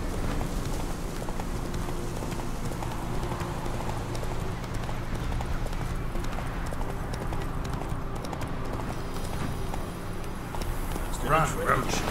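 Hoofbeats of a horse galloping in a fantasy role-playing game, a fast, steady clip-clop rhythm running throughout, close and fairly loud, with speech over it.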